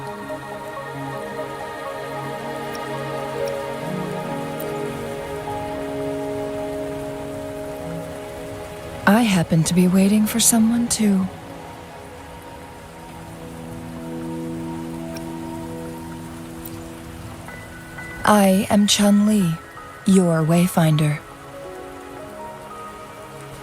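Steady rain patters across the whole scene in the video game Wuthering Waves, a soft continuous wash under light background music, with two short bursts of character speech rising over it partway through.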